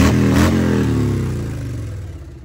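A BMW GSA 1250 Trophy Edition motorcycle with a full-system exhaust blips its throttle, a loud, close, deep engine rev that falls away and decays over a couple of seconds.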